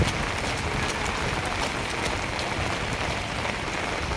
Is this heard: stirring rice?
no